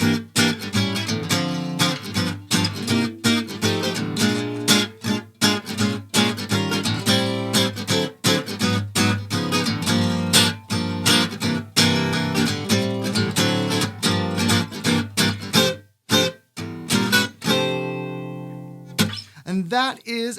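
A traditional twelve-bar blues chord progression played continuously as a full ensemble with bass, chords and rhythm, steady and loud throughout, ending on a final chord.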